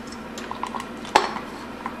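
Walnuts tipped into a mixing bowl of crumbly rhubarb bar crust dough, giving a soft clatter with one sharp clink against the bowl partway through, close and fairly quiet.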